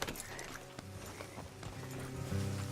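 Faint, rhythmic clip-clop of horse hooves in Red Dead Redemption 2, quietly repeating beneath a soft background ambience.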